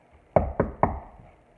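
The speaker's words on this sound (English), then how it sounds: "a loud knock startled Bunny" Three loud, evenly spaced knocks on a door, close and crisp, each followed by a short decay, with nothing else around them.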